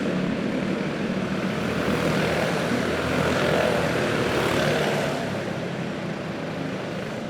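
Go-kart engines on an indoor raceway drone in a steady, loud, continuous roar that swells slightly in the middle as the karts accelerate past, with no talk over it.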